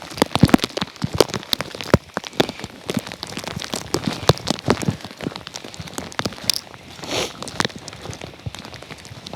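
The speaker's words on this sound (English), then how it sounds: "These are proper hailstones." Hailstones fall outdoors on a hillside, a dense, loud patter of sharp ticks and pings striking the ground and surfaces, continuous and irregular throughout.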